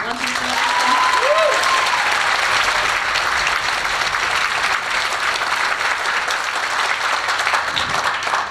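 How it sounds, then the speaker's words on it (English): Audience applause at a high school 10th grade concert, a full burst of clapping and cheering that holds steady throughout, with a brief whistle-like tone and some voices early on. "Can we give them one more round of applause?"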